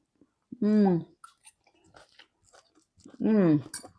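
Crunchy salad of celery, carrot and apple being chewed in close, quiet bites between two voiced hums or sounds of approval.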